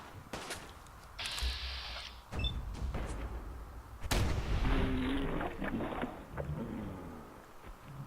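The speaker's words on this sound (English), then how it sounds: "when in doubt, bring out the shotgun" Shotgun blasts in Fallout 4 ring out amid other game effects, several sharp booming shots spaced across the stretch over a rumbling background.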